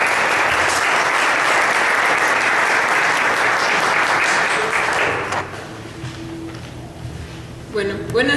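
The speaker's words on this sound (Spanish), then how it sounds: "les pido que le demos un aplauso a Penélope Ortega Aguilar" Loud, dense applause from an audience at a colloquium on Protestantism, sustained for about five seconds before thinning into scattered claps and a rustling room.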